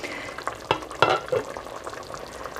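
Samosa chaat curry, with oil separating at the surface, sizzles in a pan as a spoon stirs through it, giving a couple of quick scraping strokes over a soft steady bubbling fry.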